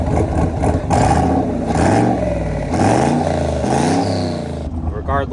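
A 700-horsepower junkyard turbo truck engine revs under throttle, its rising and falling pitch sweeping up several times, loud and close, with a rough uneven note and a voice speaking over it.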